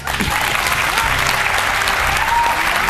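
A studio audience applauds on a leadership competition show, dense and loud clapping that runs steadily through the whole stretch.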